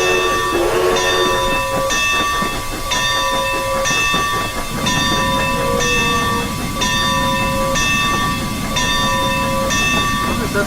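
A steam locomotive in the Railworks train simulator chuffs loudly in a steady, repeating rhythm, with sustained whistle-like tones and hissing steam running continuously throughout.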